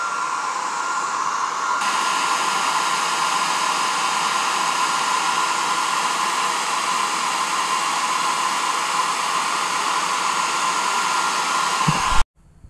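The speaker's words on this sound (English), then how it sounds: "You can speed up the process with a hair dryer." A hair dryer blows steadily at close range, drying Plasti Dip coats on car badges, a constant loud whoosh that runs unbroken and then cuts off abruptly at the end.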